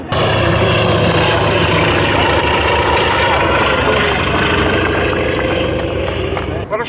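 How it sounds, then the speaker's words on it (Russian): A loud, steady aircraft engine roar drones throughout, the propeller drone holding close and constant, with voices faintly mixed underneath. "Русский третий заход делает самолет."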